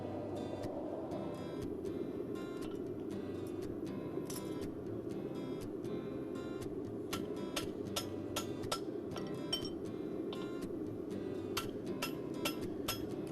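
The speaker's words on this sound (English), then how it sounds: "chosen to use a bob punch for clipping concave" A hammer strikes a bob punch clipping a horseshoe, metallic taps ringing out in an irregular series, close and bright, over a steady low background rumble.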